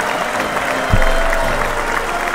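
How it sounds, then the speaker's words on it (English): Applause on a sports radio show, a dense wash of clapping filling the short stretch at steady loudness, with no voices over it. "Let's round of applause for them."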